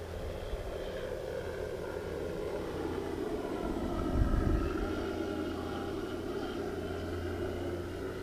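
An E-flite Carbon Z T28 2.0 m RC warbird flies slowly over a grass field at about half throttle, a steady, distant electric drone that swells briefly as it passes closer, with no talking.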